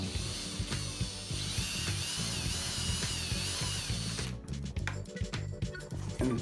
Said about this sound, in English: going to need a cordless drill for this.